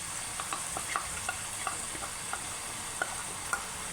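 Spiced yogurt paste goes into frying onions for restaurant-style Pakistani daal mash and is stirred, giving a soft continuous sizzle punctuated by light, irregular scraping taps of the spoon against the pan.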